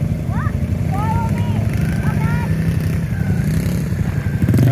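A Yamaha YFZ 50 quad bike engine drones steadily as a child rides it outdoors. The motor hum runs continuously throughout, with some faint high chirps over it.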